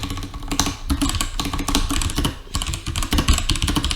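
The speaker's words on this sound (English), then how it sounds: "If I start typing, however," Rapid typing on a computer keyboard while composing in Gmail: a steady, close run of crisp key clicks, uneven in rhythm, continuing throughout with no voices.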